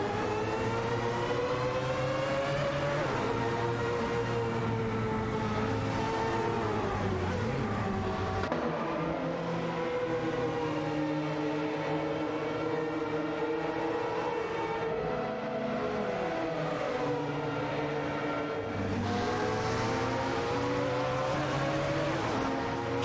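Race car engines in a racing video game, including a Mazda 787B and a Sauber C9 battling for position: a continuous loud droning engine whine with shifting pitch that rises and falls through gear changes, no talking.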